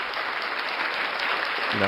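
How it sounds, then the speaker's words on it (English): A canned applause sound effect from a streaming and podcasting audio pack, triggered by a button, delivering a dense, uniform burst of crowd clapping that stays steady before a brief tonal note enters at the end. "We also get the ability to hit an applause button."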